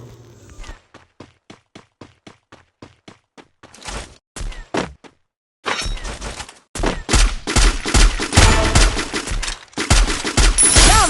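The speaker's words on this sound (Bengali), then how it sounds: "এখানে সামনের দিকে আমার টিমমেট দেখছি এনিমিদের দিকে ফায়ার করছে" Video game gunfire from a teammate shooting at enemies: a rapid series of single shots, then short bursts and sustained loud automatic fire, fairly close and dense.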